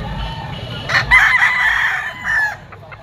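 A Sweater yellow-legged gamefowl rooster crows once at close range at a pet market, a drawn-out call lasting about a second and a half over steady background noise.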